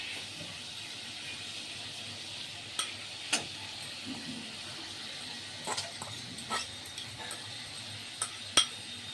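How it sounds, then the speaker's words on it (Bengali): Banana flower and potato paste frying in a pan over a medium-low gas flame, with a soft continuous sizzle and occasional scraping clicks of a spoon as it is stirred. "এটাকে আমি নাড়ব এটা গ্যাসের ফ্লেমটা মিডিয়াম টু লো আছে রেখে এটাকে কন্টিনিউ নাড়াচাড়া করতে হবে"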